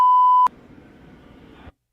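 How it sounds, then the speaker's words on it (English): A censor beep: one steady electronic tone held for about half a second, then cut off sharply. Faint muffled sound follows until it stops abruptly. "I beeped out this."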